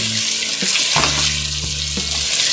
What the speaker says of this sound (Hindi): अब इसमें हम चिकन डाल देंगे। अब इसको हम फ्राई कर लेंगे।